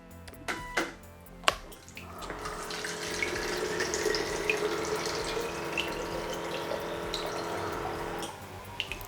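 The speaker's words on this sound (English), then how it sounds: "the sensor has turned the pump off" A small water pump on a 3D-printed RC utility boat fills a sample bottle, a steady gurgling trickle with a faint motor hum lasting about six seconds after a few knocks, then stopping abruptly.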